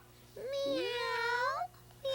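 Children's voices imitate a cat's meow in one long, drawn-out, rising and falling wail sung in unison, loud and close, followed by a brief pause and the start of another call.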